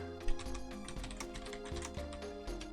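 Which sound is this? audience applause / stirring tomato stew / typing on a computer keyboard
typing on a computer keyboard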